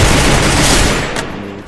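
Dense, loud video-game gunfire fills a short burst of overlapping shots and explosions, close and continuous before thinning slightly at the end.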